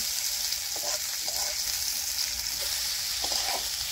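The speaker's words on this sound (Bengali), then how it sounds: "একদম কম তেলে ভাজা" Food fries in a pan with very little oil, making a continuous close hiss with a few soft stirring clicks and scrapes.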